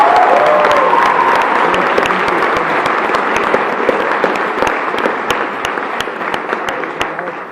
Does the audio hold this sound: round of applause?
yes